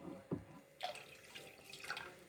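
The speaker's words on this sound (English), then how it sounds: "I'm adding warm water." Warm water splashes and trickles as it is poured into a container of melting snow, a few close, faint drips and pouring bursts in a quiet indoor room.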